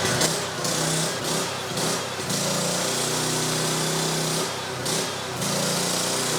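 A gasoline-powered welding generator runs close by, a loud, steady engine drone that wavers slightly at times.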